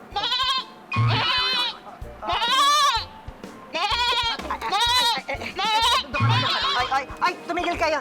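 Goat bleating comes in a series of loud, wavering calls, about eight in a row with short gaps, heard close and clear.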